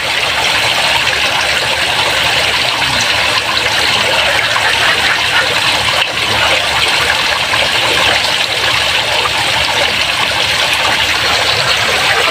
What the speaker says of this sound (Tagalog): may tubig mga idol stable lang yan mga ganyan kataas kasi may may labasan din kasi ng tubig